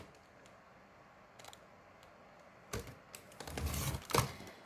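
Scrapbook paper square being cut diagonally with a paper trimmer, heard as a quiet room tone followed by a few close scraping and sliding cuts with a couple of sharp clicks near the end, no talking.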